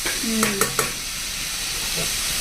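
Onions frying slowly in a pan hiss softly and steadily, with a few sharp clinks of a utensil near the start and no talk.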